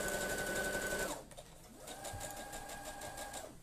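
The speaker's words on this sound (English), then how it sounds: "I'm going to stitch down that crease that we ironed in" A sewing machine stitches down an ironed fabric crease, running at a steady whirring hum, pausing briefly, then starting again and humming on in quick rhythmic bursts, close and fairly quiet with no talking.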